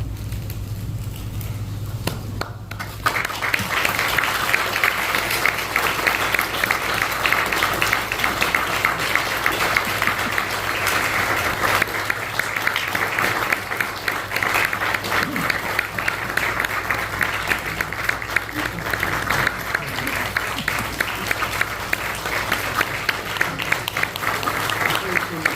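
Sustained applause from a church congregation during a flower bouquet presentation to retiring and newly installed pastors at a thanksgiving service, a steady dense clatter of hands filling the room for over twenty seconds after a brief quieter start.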